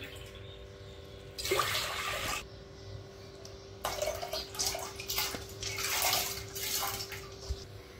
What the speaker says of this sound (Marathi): कुकरमध्ये 4 ग्लास पाणी टाकून डाळ शिजवून घ्यायची आहे.